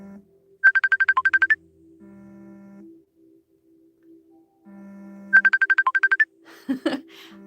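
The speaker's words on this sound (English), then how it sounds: "Is my phone literally ringing again?" A phone ringtone plays two bursts of rapid repeated electronic beeps several seconds apart over a low steady hum, followed by a short rustle.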